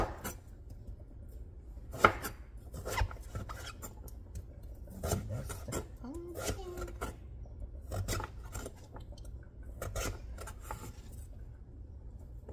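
Green papaya being chopped on a board with a knife for cooking with pumpkin, quiet irregular cuts and scraping taps repeating every second or so, close and faint.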